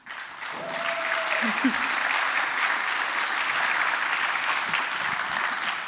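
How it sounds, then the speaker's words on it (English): An audience claps steadily after a conference talk on resilience testing, a full, even round of applause heard close and continuing throughout, with a brief voice near the start. "Applause."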